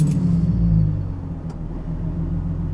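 A BMW Z4 with a newly replaced DISA valve runs at a steady, smooth idle close to the microphone, a low continuous engine rumble with nobody speaking.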